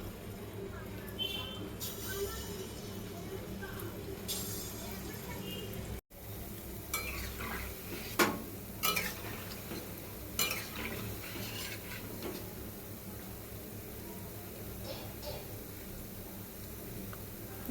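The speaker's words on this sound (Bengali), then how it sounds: "এগুলোও লাল লাল করে ভেজে নেব" Palm fruit fritters (taal bora) fry in hot oil, giving a continuous low sizzle with scattered clinks and scrapes of a utensil against the pan, briefly cut off midway before resuming.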